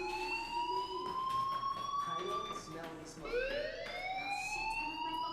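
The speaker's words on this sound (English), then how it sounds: "do you hear that fire alarm? That means you should be outside." A fire alarm rings in the video game Life Is Strange, a continuous electronic alarm tone that sweeps down and restarts, steady and moderately loud throughout.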